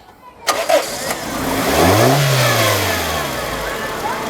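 A used Toyota 111 car with a one-year-old battery cranks and catches, then revs up and settles into a steady idle, loud and close with no talking.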